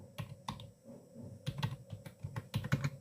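Typing HTML on a computer keyboard during a coding lesson: quick bursts of close key clicks in uneven clusters with short pauses between, no voice.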